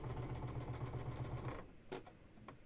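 A sewing machine runs a quick, even burst of stitches on the last seam of an Open Star quilt block, then stops, leaving a couple of soft clicks and handling noises.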